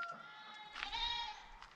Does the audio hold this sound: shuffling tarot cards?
no